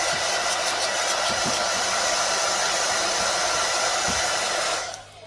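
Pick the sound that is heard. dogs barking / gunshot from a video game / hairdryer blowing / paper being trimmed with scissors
hairdryer blowing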